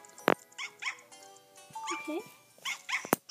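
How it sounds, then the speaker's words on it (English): A toy poodle puppy in the Nintendogs + Cats video game gives a few short, high yips and whimpers in quick succession, fairly close and clear, with a brief spoken word in between. "Let's meet this puppy."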